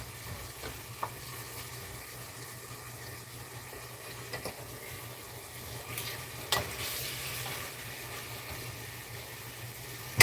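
Minced beef browning in a hot pan gives a steady, even sizzle and crackle that holds for about ten seconds, with a few brief clicks and a louder bump at the very end. Nobody speaks.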